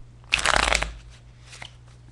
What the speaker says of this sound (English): I'm going to go ahead and give the cards a quick shuffle.